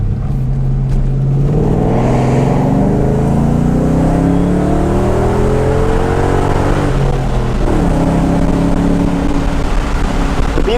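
Car engine climbing through the revs on Tail of the Dragon, Highway 129, in the Great Smoky Mountains, a loud, steady drone with rising and falling pitch sweeps as it accelerates and shifts, close and continuous throughout, no talking.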